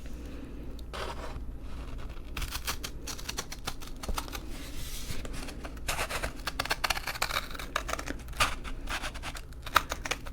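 Scissors cut through paper for a Mid-Autumn lantern, making close, soft crisp snips and rustles in irregular bursts, quiet and intimate with no talking.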